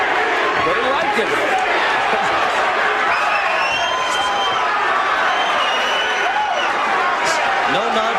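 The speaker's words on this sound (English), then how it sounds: "Crowd chanting his name." Crowd at a heavyweight boxing fight roaring and chanting continuously, loud and dense, with scattered shouts and a commentator talking over the noise.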